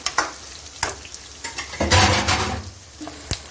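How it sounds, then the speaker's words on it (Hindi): Sliced onions frying in a pan over medium flame, a crackling sizzle with several sharp stirring scrapes and a louder surge of hissing midway. "वो डाल के तो उसको भी जो है वो मीडियम फ्लेम पे 4 से 5 मिनट के लिए फ्राई कर लेना है"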